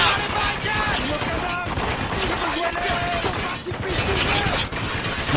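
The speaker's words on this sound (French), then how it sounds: "Walker, faut qu'on neutralise cette mitrailleuse!" Dense machine gun fire in a video game, rapid bursts rattling continuously and loudly while voices shout over the fighting.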